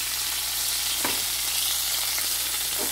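Pre-cooked red kidney beans sizzle in a hot pan with a steady hiss, a few soft clinks and stirring scrapes breaking in, close and with no voices.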